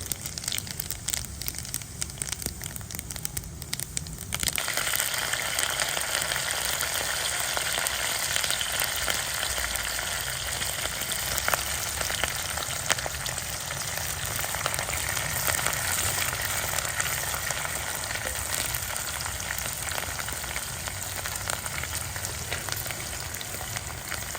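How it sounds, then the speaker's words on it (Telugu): Steady, loud sizzling of chana dal frying in hot oil, a continuous crackling hiss that swells after the first few seconds and stays dense throughout. "నూనె పోస్తున్నా వేడెక్కింది శనగపప్పు వేస్తున్నా"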